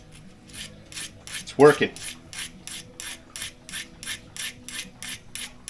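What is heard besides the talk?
filing to sharpen a hardened metal tool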